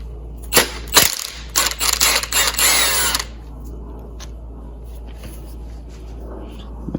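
A tool works the 14mm bolt on the center idler of a 3.4 L Toyota 4Runner engine, giving a few sharp bursts and a short spin of clattering close up over the first three seconds, then quiet.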